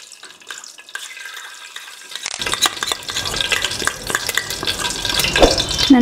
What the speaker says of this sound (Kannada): ನಾನಿಲ್ಲಿ ಇವಾಗ 3-4 ಚಮಚ ಅಷ್ಟು ತುಪ್ಪವನ್ನು ಹಾಕ್ತಾ ಇದ್ದೇನೆ